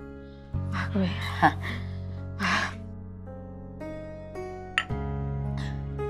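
Someone pants and gasps for breath in a few heavy, breathy bursts, close by, over soft background music.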